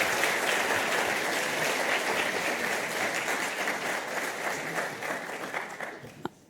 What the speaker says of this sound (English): So we'll just give him a last round of applause.